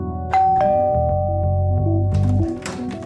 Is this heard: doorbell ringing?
yes